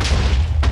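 A single heavy explosion goes off in Minecraft, a deep booming blast that fills the short moment, followed by a second burst of noise near the end.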